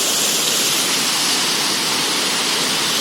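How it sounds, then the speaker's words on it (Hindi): Loud, steady roar of rushing water pours continuously from a monsoon-swollen waterfall at Rani Dah in Jashpur, Chhattisgarh, a broad unbroken wash of spray and churn with no voices over it. "पूरा आवाज सुन रहे हैं आप लोग पानी का"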